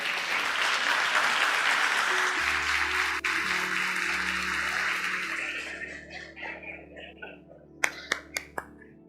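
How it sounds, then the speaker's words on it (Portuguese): A church congregation applauding, with sustained dense clapping that thins out toward the end into a few scattered final claps. "Alguém quiser dar um aplauso ao Senhor, você pode aplaudir"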